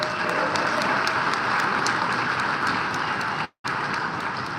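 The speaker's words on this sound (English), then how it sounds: "Let's give him a round of applause" Sustained applause from an audience at a union hall, a dense, steady wash of many hands clapping with one brief cut partway through.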